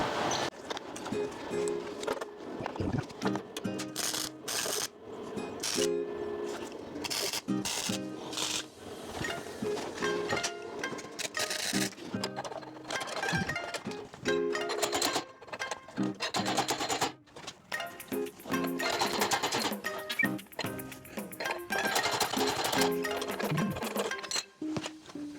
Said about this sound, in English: I'm going to try and weld some threaded rod onto the dent there